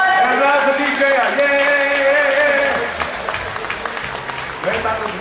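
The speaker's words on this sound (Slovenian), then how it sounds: "Aplavz za DJ-ja" A crowd at a Christmas party applauding the DJ, clapping that tapers off partway through, under loud ongoing music and voices.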